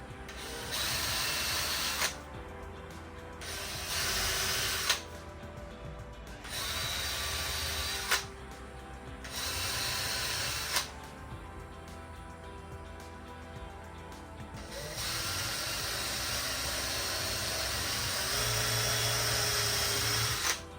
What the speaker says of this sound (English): I'm going to pre-drill these at the angle I need.